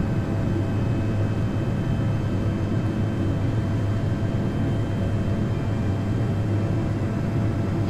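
An Airbus A220-100 on its takeoff roll in the Prepar3D flight simulator, departing Zurich, makes a steady, loud engine roar with broad rushing noise that holds level for the full eight seconds.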